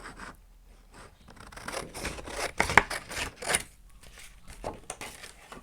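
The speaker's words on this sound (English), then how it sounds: "I'm just going to cut off the bit I don't really need" Scissors snip through thin napkin paper during a decoupage craft, giving a few quiet, crisp cuts and one sharper snap partway through, heard alone with no talking.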